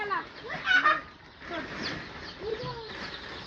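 Several birds clucking and squawking close by, a busy overlapping chatter of poultry calls with varying loudness.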